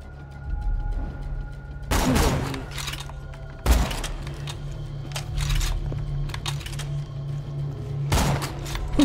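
Sniper rifle shots in Borderlands 2, four sharp loud cracks spaced a couple of seconds apart over a low steady game hum, with fainter clicks and thuds between.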